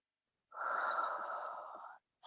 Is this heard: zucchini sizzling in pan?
no